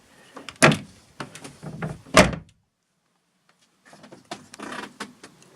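The modified bedroom door on a Dutch steel cruiser boat is worked through a series of knocks, sliding scrapes and two sharp thuds, then a pause, followed by quieter rattling and clicking, all close by.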